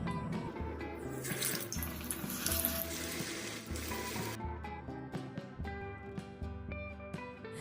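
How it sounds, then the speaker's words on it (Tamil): Masala-coated stingray pieces going into hot oil in a kadai make a steady, close, rushing sizzle that runs throughout, with scattered small pops and no talking. "இப்போ நம்ம ஆல்ரெடி ரெடி பண்ணி வச்சுருக்க திருக்க மீன்களை எண்ணெயில் சேர்த்துருவோம்"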